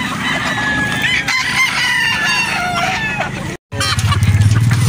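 Mexican battle stag roosters crow loudly and repeatedly at a game farm in Batangas, with overlapping calls and clucking from many birds close by. A brief silent gap comes near the end before the crowing resumes.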